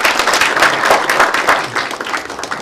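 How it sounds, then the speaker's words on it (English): An audience at a talk on gold as an investment claps for the speaker, a brief, loud burst of close, uneven handclaps from a small room. "I would love to have applause for Mr."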